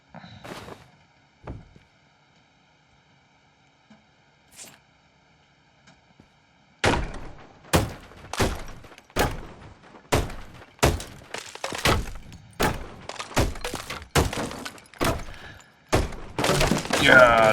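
In Deconstruction Simulator, demolition debris gets smashed apart: after near-silence with a few scattered knocks, a rapid run of loud, sharp crashing and breaking impacts follows in an uneven rhythm, close up.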